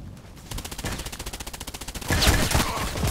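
An RFB rifle fires in the online shooter Contract Wars, a rapid, evenly spaced string of close, sharp shots rattling for about a second and a half, followed by a louder, denser burst of fire.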